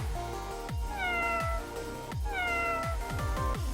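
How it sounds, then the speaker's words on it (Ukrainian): A cat meows twice, each call a clear drawn-out falling cry, heard close over a looping musical backing with plucked notes. "Так, правильно, сьогодні до нас завітала кішка Мурка."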